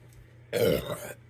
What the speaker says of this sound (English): I've got my seltzer, so the burps are flowing